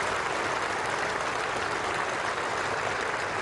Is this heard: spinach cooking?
no